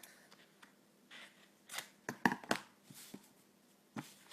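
Scissors trim the edge of a craft piece, a few quiet close snips and paper rustles scattered irregularly across a hushed background.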